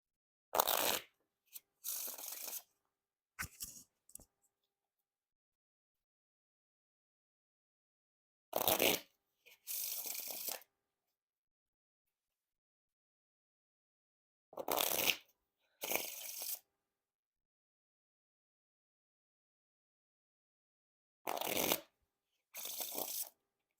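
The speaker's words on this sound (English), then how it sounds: "Now time for the Riffle Shuffle or Bridge Shuffle." Four separate bursts of riffle shuffling a Shin Lim Noc deck of playing cards, each a quick fluttering rush of cards followed by a short bridge riffle, with silence between.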